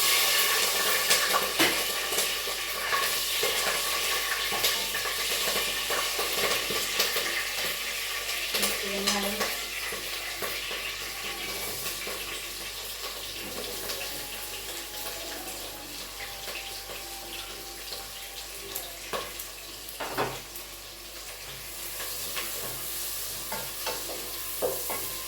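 Spices and green chillies frying in hot oil for tomato rice, a steady close sizzle with occasional stirring scrapes running throughout without any talk.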